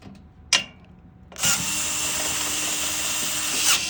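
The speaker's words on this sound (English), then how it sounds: "now I'm ready to install these tiny little screws right here" Power screwdriver driving tiny screws into a photo booth mirror: one sharp click, then a steady close whirring run of a few seconds with no talk.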